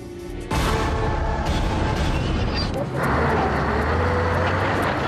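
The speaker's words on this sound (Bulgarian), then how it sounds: "Камионът тръгна спокойно." A truck engine rumbles up loudly and then settles into a steady low drone as the vehicle pulls away, with a deeper engine note coming in partway through and continuing without break.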